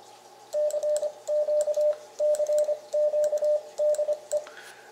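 A Morse code sidetone keyed with a Vibroplex Code Warrior Jr paddle sounds as a single clear beep pitch in quick groups of dots and dashes, with short pauses between groups and no talking.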